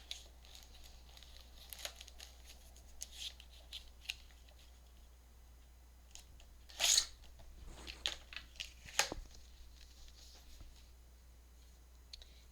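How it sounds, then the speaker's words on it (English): Scissors snip through vintage ledger paper in quiet, scattered cuts and crinkles, with a few sharper rustling bursts in the middle, close and faint over a low background hum. "And then I'll just trim this with my scissors."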